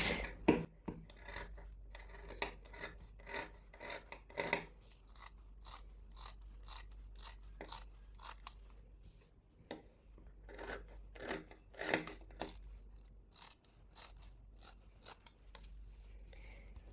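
Scissors cut through blouse fabric in a steady series of close, crisp snips, each stroke a sharp crunch repeating at an even pace with a short pause midway.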